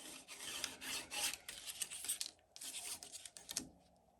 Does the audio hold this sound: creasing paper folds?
yes